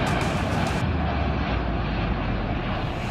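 A Chinese Y-20 military cargo aircraft's engines roar in a loud, steady, broad rumble that holds throughout, with a brief brighter whine at the start.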